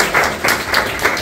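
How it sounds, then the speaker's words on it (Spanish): A book-launch audience in Ecuador claps in a short, dense burst of applause, close and fairly loud, rising and falling in waves over about a second. "así que se repita ese aplauso para Flor acá, un aplauso."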